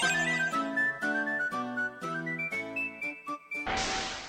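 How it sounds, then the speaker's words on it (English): Skiff whistle from the video game Ultima IV plays as a short chiptune-like melody of stepped whistled tones, then ends in a burst of hiss. "Skiff whistle summoning our skiff is pretty great."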